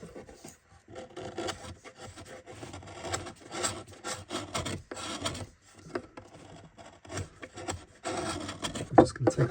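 A knife blade rasps against the corner of a wooden seven-string lyre in short scraping strokes, rough bursts separated by brief pauses, close up and fairly dry.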